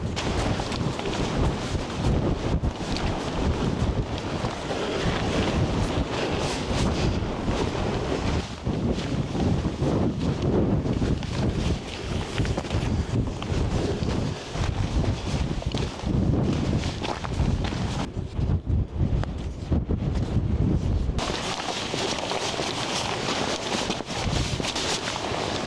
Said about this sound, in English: That wind is a little bit tasty today.